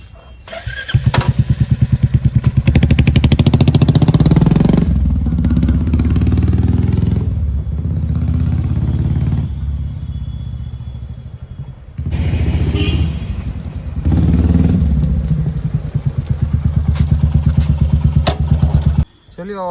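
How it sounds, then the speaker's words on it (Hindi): A Royal Enfield Meteor 350 motorcycle fitted with a Dolphin aftermarket exhaust rides past up close: a loud, rapid single-cylinder thump that swells and eases as the bike goes by, drops briefly, then roars past again. "तो चलिए अब इसको आपका फ्लाई बाय सुनाता हूँ।"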